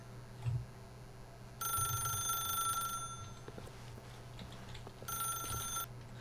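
A telephone rings in The Stanley Parable video game, with two bursts of bright, steady electronic ringing separated by a pause, heard alone over a low background hum.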